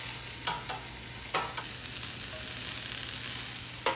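Radicchio sizzling on a barbecue grill, a steady broadband hiss held throughout, with a steady low hum beneath and a few sharp clacks of tools on the grill.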